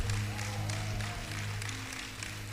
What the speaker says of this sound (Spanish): Dale otro aplauso grande